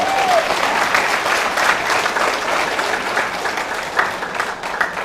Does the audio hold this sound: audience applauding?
yes